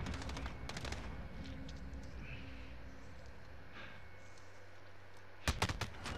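Video game gunfire: a rattle of rapid shots opens the clip, quieter game noise follows, then a sharp, loud burst of close shots near the end.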